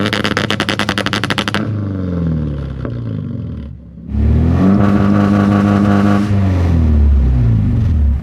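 Car engine fitted with a coil-on-plug ignition, revving hard during launch control testing, loud and close, with sharp staccato pops at first, a brief dip, then a sustained roaring high rev.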